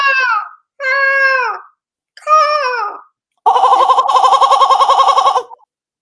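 A person vocally imitates a seagull, giving three separate drawn-out squawking cries followed by a longer, rapidly warbling laughing call, loud and close with no other sounds.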